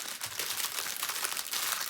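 Plastic baggies of resin diamond painting drills being opened close by, a quick run of crinkling and rustling plastic for about two seconds, no talk.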